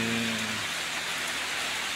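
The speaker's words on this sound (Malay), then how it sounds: "Kita berteduh dulu karena perjalanan hujan" Steady rain hiss with a brief low hum at the start, continuous and fairly close, no voices.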